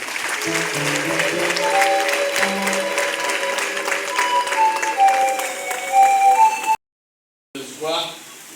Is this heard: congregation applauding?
yes